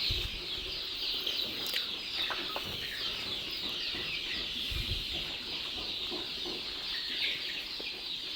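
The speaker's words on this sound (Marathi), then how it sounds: "तुम्ही पाहू शकता सकाळचे एकदम फ्रेश वातावरणामध्ये पिल्ले कशा प्रकारे खाद्य खात आहेत" Free-range country chicks and chickens feeding in a shed on a fresh morning, with continuous soft clucking and chirping, scattered pecking taps and a few louder calls, fairly close.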